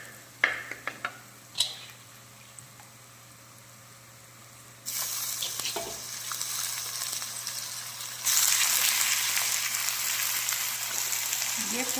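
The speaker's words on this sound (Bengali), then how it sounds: "এবার এই চিকেনটা এই ভাজা পেঁয়াজের উপরে দিয়ে দেবো" Chicken marinated in salt, turmeric and lemon is dropped onto fried onions in a pan. After a few quiet seconds with light clinks, a loud, close sizzle bursts in and swells stronger partway through.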